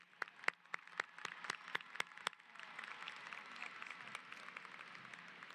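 Graduation audience applauding families at a high school ceremony: a few sharp, separate claps at first, then a broader, softer wash of clapping from a distant crowd in a large space.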